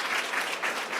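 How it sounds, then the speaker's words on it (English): A short burst of audience applause at a COP29 panel event, dense clapping from a crowd, fairly loud and steady with no talk. "can we have a big round of applause, please, for our two speakers?"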